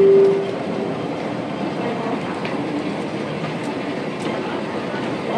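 An MTR underground train runs through North Point, Hong Kong, giving a loud, steady rumble and rolling roar that fills the clip, with faint clicks from the rails.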